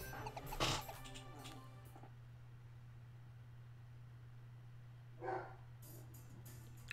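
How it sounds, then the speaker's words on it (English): Puppy barking in the background: two short, faint yips a few seconds apart over a low steady hum. "You probably just heard my puppy. He bark."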